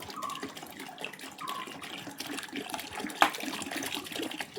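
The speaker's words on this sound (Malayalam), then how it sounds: "ഇനി 1 ലിറ്റർ വെള്ളം കൂടെ ഒഴിക്കും." Water pours steadily into a plastic bottle while a homemade toilet cleaner is being mixed, a continuous close splashing gurgle with one brief knock near the end.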